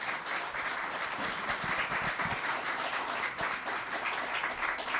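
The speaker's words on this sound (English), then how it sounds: "Let's give them a round of applause." An audience at a mayoral candidate forum gives a round of applause, continuous dense clapping heard at moderate distance and fairly quiet, with no speech over it.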